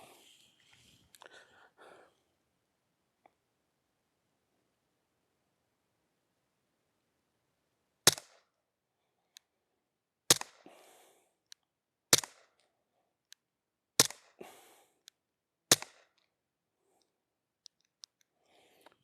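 Five shots from an Umarex M&P air pistol fired at 10 metres, each a sharp, sudden crack spaced about two seconds apart over otherwise quiet surroundings, with faint ticks and light handling noise between them.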